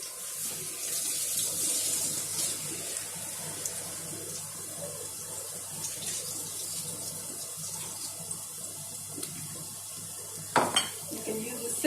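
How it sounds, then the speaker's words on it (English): Rice and dal are rinsed in a pot under a running kitchen tap, with steady water flow, sloshing and swirling grains, and a sharper clatter of the pot near the end. "I'm going to wash the rice and dal. Just give it 1 or 2 rinse"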